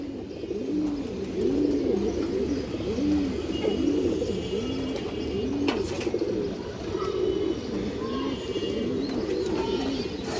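Female silver pigeons coo in a steady, repeating rhythm of rounded calls at moderate distance, over a constant background hum with occasional faint clicks.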